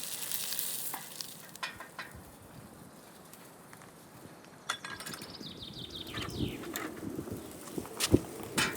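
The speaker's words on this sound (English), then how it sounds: "The tomatoes release their juices almost instantly, creating a sizzling, tangy sweet aroma that fills the air." Chopped tomatoes sizzle in butter in a pan over an open fire, a steady crackling fry with broad hiss that grows busier toward the end, with faint outdoor sounds and a few sharp clicks.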